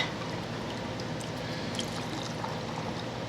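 Chicken broth pours in a steady continuous stream into a jar, a soft even splashing close by with no talk.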